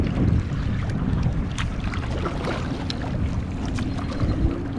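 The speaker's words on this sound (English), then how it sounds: "Let me turn my boat around and you can see it." A boat moves across a bay near a lighthouse, with steady low water and engine rumble under wind buffeting the microphone, continuous and close throughout.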